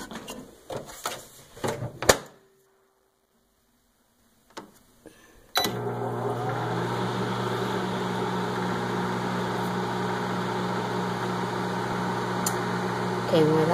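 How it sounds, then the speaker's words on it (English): A microwave oven heats a whisked KaLangFen batter: a few clunks and clicks, a short pause, then a steady, even hum that keeps running to the end. "Okay, I want to put it back into the microwave again."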